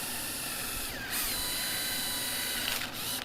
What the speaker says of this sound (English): I'm going to finish drilling this hole